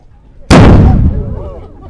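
Matchlock muskets fire a single loud, booming volley at a castle performance, a sudden sharp blast that rolls and echoes away over the next second.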